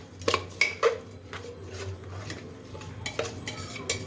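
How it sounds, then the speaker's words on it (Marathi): Rice stir-fried in a pot for spicy masale bhat, with a utensil scraping and clinking against the metal in irregular strokes over a low hiss, close by and with no speech. "तर 2-3 मिनटं परतून घेऊया चांगला भाताला."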